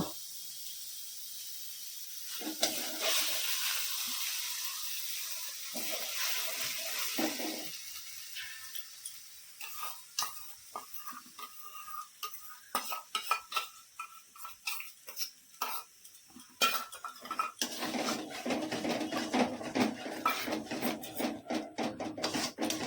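A thick poppy seed, cashew and fennel paste sizzles softly in a pan while a spatula scrapes and stirs through it in uneven strokes, with no voices.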